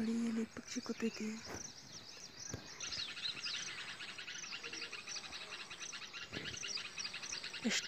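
Small birds chirp in a village garden beside rose plants, with a rapid, faint twittering that becomes steadier in the later part, a voice speaks briefly near the start, and a low background hiss of insects continues underneath.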